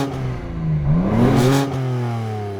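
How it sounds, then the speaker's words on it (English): A Manhart-tuned BMW M3 or M2 sports car with no rev limiter revs up close, the engine tone climbing sharply to a loud peak and then dropping back to a steady idle. "I've got no rev limiter, so I can rev it all the way up."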